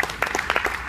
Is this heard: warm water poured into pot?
no